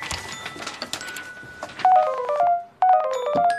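A mobile phone rings with a bright electronic melody of repeated tonal beeps, starting softer and then louder in clear bursts with a short gap, heard alone indoors.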